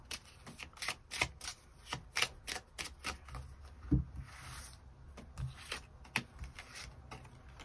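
Tarot cards are shuffled and drawn in a series of crisp, close riffling and slapping bursts at an uneven rhythm, with light rubbing between them and no talk.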